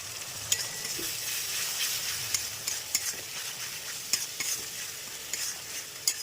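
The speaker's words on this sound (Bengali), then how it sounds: "ভালো করে এবার কষিয়ে নেবো।" A paste of ginger, garlic, green chilli, cumin and coriander frying with browned onions for a Bengali katla fish roe curry, giving a soft continuous sizzle with scattered clicks of a spoon stirring, and no talk.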